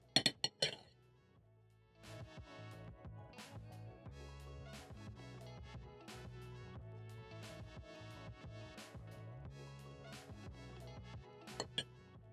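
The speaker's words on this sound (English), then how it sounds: "Take your salad spoon and mix or toss all the ingredients together until fully combined." A salad spoon clinks against a bowl while potato salad ingredients are tossed together, with a few sharp taps at the start and a couple more near the end, all over steady background music.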